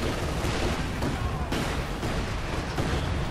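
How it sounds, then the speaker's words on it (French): Continuous artillery barrage in Company of Heroes 2, a dense unbroken rumble of shelling and gunfire with repeated booms, loud and sustained throughout. "Donc je continue mon barrage d'artillerie"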